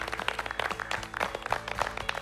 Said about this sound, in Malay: Jadi kita berikan tepukan sekali lagi buat Syed